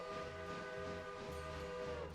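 A passenger train runs in the Railroader game, a steady sustained tonal drone with a rhythmic low chugging pulse beneath it, continuous and fairly close.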